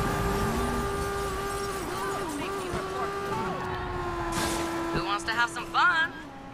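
A car drives in the open-world video game Watch Dogs 2, its steady engine droning loud and close the whole time, with several people talking over it.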